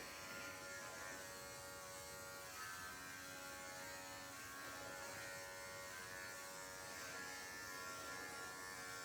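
Electric clippers trimming a dog's coat down to half an inch during a grooming session, a steady, quiet buzz that holds without pause, with no talking.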